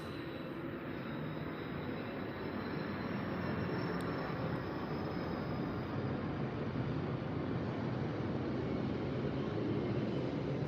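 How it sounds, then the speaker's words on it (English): An airplane passes overhead as a loud, steady broadband engine roar that fills the whole stretch without fading, with no talking over it. "Oh, here, another plane, I'm sorry."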